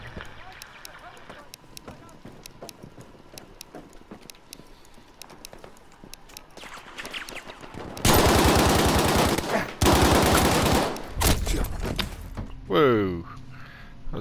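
An STG 44 assault rifle fires in Battlefield 5 Beta Assault class Conquest gameplay, with dense loud bursts of automatic gunfire after a quieter stretch of distant battle noise, ending in a tonal sweep.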